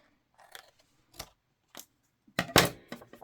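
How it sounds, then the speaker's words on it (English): Scissors cut a printed photo down for a Cancun travel album, with a few soft separate snips followed by a louder, closer burst of cutting near the end. "let's cut this down just a smidgen"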